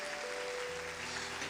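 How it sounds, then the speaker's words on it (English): Faint, steady clapping from an audience at a bishop's consecration ceremony, a continuous wash of applause at low level for a brief moment. "Let's give them a big hand clap,"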